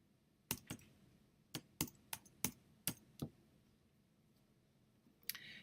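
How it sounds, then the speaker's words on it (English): Typing on a computer keyboard while entering a place name into an app: about nine sharp, distinct key clicks spaced unevenly over several seconds, close and clear against quiet room tone, ending with a small cluster of taps. "I'm going to type in Santa Cruz."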